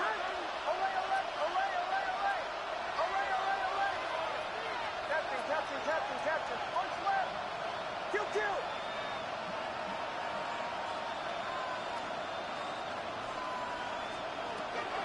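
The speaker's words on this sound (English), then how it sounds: "this crowd is making an impact right now." Steady stadium crowd roar from the Madden NFL 26 football video game, a continuous dense wash of cheering and murmur filling the whole stretch without pause, heard with no talk over it.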